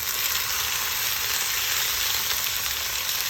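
A fish fillet fries crust side first in a hot pan, giving a steady, dense sizzle and crackle up close, unbroken and fairly loud, with no voices.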